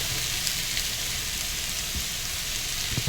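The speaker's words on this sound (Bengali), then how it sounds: "আলু ছোলা কচু দিয়ে পনির কড়াই ভেজে দিচ্ছি" Paneer with potato, chickpeas and taro frying in a wok for a village-style vegetable dish, giving a steady, close crackling sizzle that runs unbroken, with a few faint stirring knocks.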